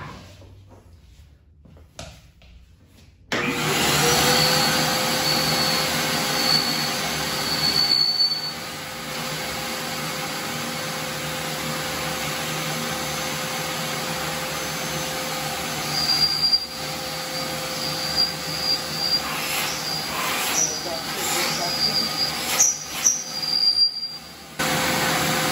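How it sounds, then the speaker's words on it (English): Craftsman 4 HP 9-gallon wet/dry shop vacuum switching on after a quiet moment and then running with a loud, steady, high-pitched whine, with brief bumps and clatter toward the end. "Now we'll turn it on."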